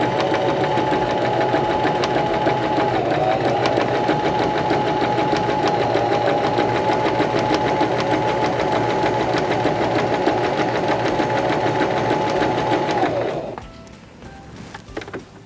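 A Singer Start 1304 sewing machine stitching fabric under the presser foot, a loud steady whirring hum with rapid rhythmic needle ticking that runs continuously, then winds down and stops near the end.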